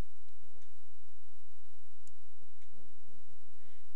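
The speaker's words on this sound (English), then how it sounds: "I'm going to pause while it prints so you can hear my printer engage" A home printer prints a catalogue page, giving soft, regular mechanical ticks and clicks over a low hum, quiet and steady with no talking.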